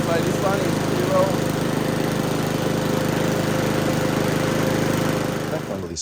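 A lawn mower engine runs close and loud at a steady, buzzing idle-like pace with a rattling pulse, then eases slightly near the end.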